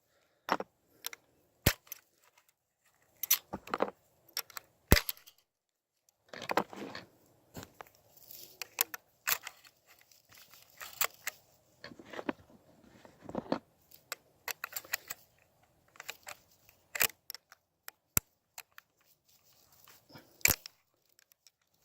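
Sharp metallic clicks and clacks as cartridges are pushed one by one into a Winchester Model 94 30-30 lever-action rifle, close and irregular with brief pauses between the loading sounds.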